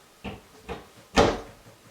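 A drawer on a custom white oak dresser slides shut, with two soft wooden knocks followed by one firmer, louder closing thud, close by with no talk.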